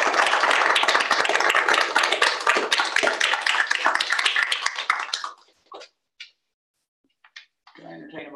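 Applause at a Board of Regents committee meeting, honouring a colleague's work: dense clapping from a roomful of people runs steadily for about five seconds, then breaks off into a few scattered taps and quiet murmurs.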